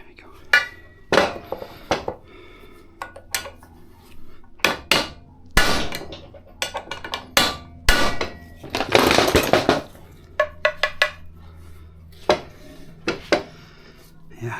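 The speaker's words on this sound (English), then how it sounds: "In fact, we can probably hammer this down now." Hammer blows knocking the propshaft of a Mercedes 410D van back into place, a series of sharp metallic strikes in irregular bursts, some single and some in quick clusters, loud and close with workshop clatter between.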